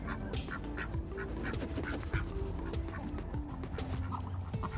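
Ducks quack repeatedly outdoors alongside other birds, steady chatter of calls over a constant background noise, fairly faint.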